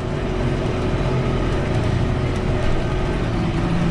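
Zetor Forterra 140 HD tractor engine running steadily while mowing a meadow, a continuous loud low rumble with even drone and no pauses, close to the listener.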